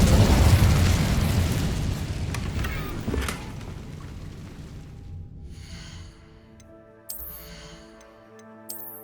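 An Incendio fire spell in Hogwarts Legacy bursts out as a loud, roaring whoosh of flame that slowly fades into crackling, leaving quiet chiming musical tones behind.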